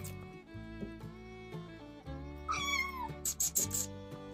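Three hungry kittens meow, with one drawn-out cry in the middle followed by a few short, high squeaks, close by over a steady tonal background.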